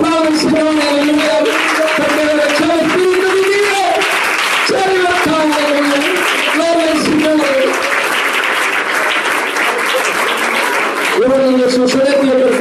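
Congregation applauding during an Italian church Sunday school service, steady dense clapping throughout, with a loud voice singing or calling over it much of the time.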